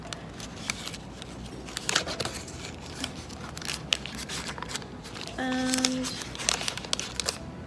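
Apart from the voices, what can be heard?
unwrapping a dark chocolate caramel wafer biscuit wrapper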